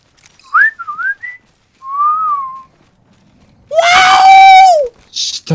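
A human voice whistles and squeals in imitation of R2-D2's droid beeps: short warbling chirps, one long sliding tone, then a loud shrill cry, close and dry, with brief pauses.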